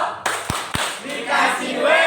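A group at a school training session in Indonesia does the tepuk wow clapping routine: a couple of sharp, distinct claps, then a burst of voices calling out together in a lively indoor room.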